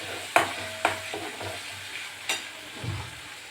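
Green chilies tossed into a hot pan for varan bhaat, giving a few sharp clatters and a soft sizzle that fades under stirring, close and fairly loud with no talking.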